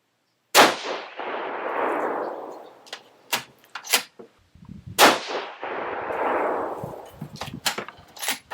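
Two loud rifle shots from a Savage 110 in 6.5 Creedmoor firing 123gr SST loads, each a sharp crack with a long rolling echo, several seconds apart and followed by metallic bolt clicks and handling noise.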